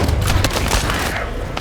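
Heavy automatic gunfire and booming impacts from the shooter video game The First Descendant, a loud dense burst of rapid shots over a short stretch with no pause.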